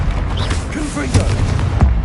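Confringo blasting spells explode in the Hogwarts Legacy video game: short booming blasts land amid game action, with a voice speaking over them.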